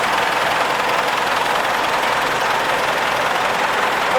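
A Ford 3000 tractor engine runs steadily at an outdoor steam rally, a loud, continuous idling drone with no pauses and no talk over it.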